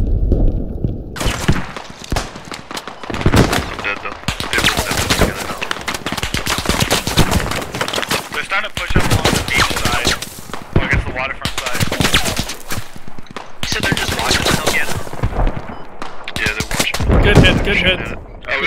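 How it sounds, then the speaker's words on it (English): Sustained machine gun and rifle fire rattles through a Squad firefight set in a Middle East Escalation mod battle, dense overlapping bursts and shots with thuds, while players talk over the gunfire throughout. "The top of the rocks is where that MG fire is coming from."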